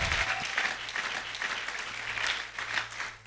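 Steady applause fills a church service, many hands clapping together in a continuous warm wash that swells and dips slightly for a few seconds.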